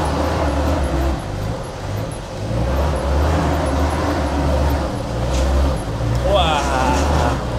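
A Land Rover off-road vehicle's engine pulls and revs on rough terrain, a loud, close mechanical roar rising and falling in waves while people talk over it.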